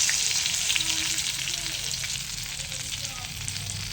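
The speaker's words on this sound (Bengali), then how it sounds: "মাছের মাথা ভেজে নিচ্ছি সুন্দর করে" A fish head fries in a pan with whole garlic cloves and chili, producing a loud, close, steady crackling sizzle throughout, alone without speech.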